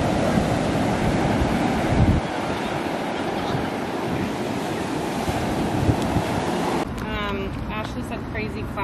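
Ocean surf on a beach at Anna Maria Island, a steady broadband wash of waves mixed with gusty wind noise on the microphone, continuous and fairly loud, with a brief surge of wind near the end.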